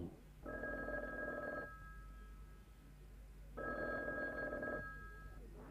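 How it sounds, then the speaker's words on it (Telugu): A telephone bell rings in two separate bursts with a pause between, fairly quiet and unanswered, over a low background hum. "ఫోన్ వస్తుంది తీయొద్దు అలాగే మోగి ఆగిపోతుంది"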